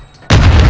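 A Semtex grenade detonates in Call of Duty: Modern Warfare II, a single sudden, loud, booming blast that cuts in after a brief quiet moment and rumbles on.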